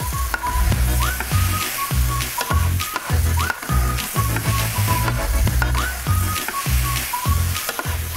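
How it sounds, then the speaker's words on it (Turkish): Meat for çöpleme fries with a loud, constant sizzle in a pan, stirred with rhythmic scraping and knocks from a utensil, close by, with no voices. "Etimizi karıştıralım."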